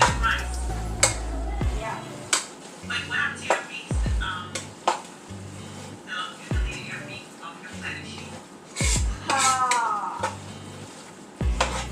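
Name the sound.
stirring spaghetti in a pot with utensils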